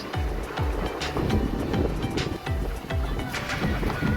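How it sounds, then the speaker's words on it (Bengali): Sea wind gusts across a beach near Cox's Bazar, buffeting the microphone in repeated low, rumbling thumps over a hissing background of air and distant surf. "অনেক ভালো লাগতেছে বাতাস।"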